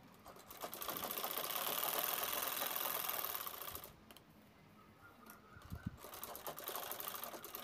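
A sewing machine stitches layered fabric for a zippered jewelry bag, running in a steady mechanical whir that stops partway through, then restarts at a similar moderate level.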